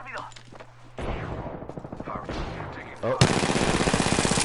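Rapid bursts of automatic gunfire from a shooter game played on PS4 crackle loudly and continuously, with a sharper, denser volley near the end, while a player's brief exclamation cuts in.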